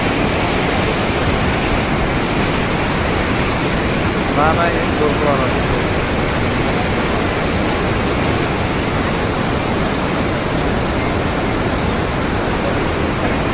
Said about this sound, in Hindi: ये देखिए नदी बह रही है